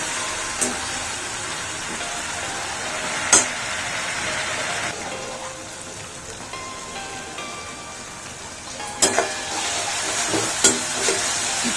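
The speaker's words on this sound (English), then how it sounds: "Let the tomato paste get fried nicely." Tomato paste and spices sizzle steadily in an oiled pan for a Jain curry made without onion or garlic, a soft continuous crackle broken by a few sharp clinks as the mixture is stirred.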